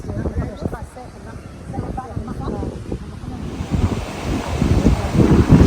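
Sea waves wash on the Port Said coast of Egypt while strong wind buffets the microphone with rumbling gusts. People talk throughout, and the surf grows louder and rougher toward the end.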